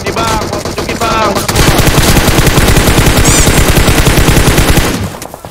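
Automatic gunfire in the PUBG Mobile battle royale game, loud rapid bursts of machine-gun shots crackling nearly nonstop for several seconds, with a short pause early on and a brief lull before the final burst.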